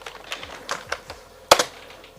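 Keyboard typing while playing The Typing of the Dead on a Sega Dreamcast: a handful of separate, close key taps in an uneven rhythm, ending in a sharper, louder double strike.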